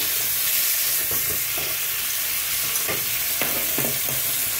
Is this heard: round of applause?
no